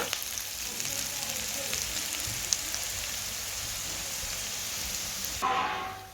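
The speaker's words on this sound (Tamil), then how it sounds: "இந்த தாளிச்சாச்சு, வெங்காயம் வதங்கிட்டுது" Onions and tempering for upma sauté in a pan, giving a faint, steady sizzling hiss that cuts off abruptly near the end, with no talking.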